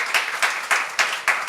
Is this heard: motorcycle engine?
no